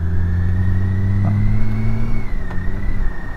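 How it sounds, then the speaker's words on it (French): A 2017 BMW K1600 Bagger motorcycle engine drones steadily, its pitch rising gradually with a brief dip partway through as it shifts gear without a quickshifter. "Je vais essayer de passer les vitesses sans le shifter pour voir un peu ce que ça donne."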